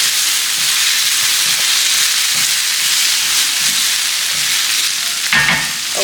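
Tomato puree and salt stirred into a hot paella pan, a steady loud sizzle and hiss running throughout with soft scraping strokes and a brief clatter near the end, no voices.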